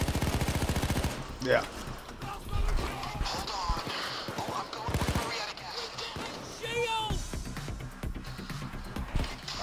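Gunfire from snipers cracks through a Payday 2 heist as rapid bursts and single sharp shots over game noise. Voices talk over the shooting at moderate loudness.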